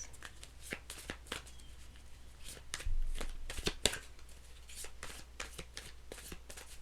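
Tarot cards are shuffled by hand in a quiet room, a series of soft riffling and slapping bursts at an irregular rhythm, close and fairly faint.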